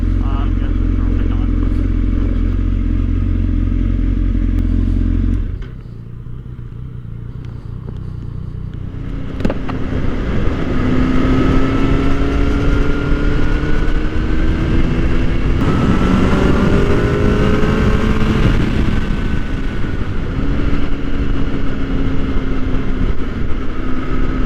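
A Kawasaki ZX-10R motorcycle is ridden, its engine droning under heavy wind rush, idling low at first, then pulling hard with whining, rising engine tones through gear changes.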